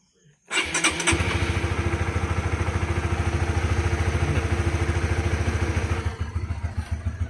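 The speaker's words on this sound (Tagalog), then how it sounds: "Start na namin yung kanyang motor." A Honda GTR 150 motorcycle, just fitted with a new cam chain tensioner, cranks and fires up, then settles into a loud, steady, close-up idle with an even rapid pulse that wavers near the end.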